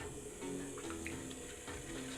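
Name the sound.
water poured onto clay on a pottery wheel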